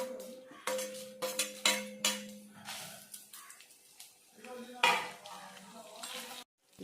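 Dried red chillies, coriander seeds and cumin frying and being stirred in hot oil in a pan, with scraping spoon strokes and faint sizzling close by, while a voice talks over it.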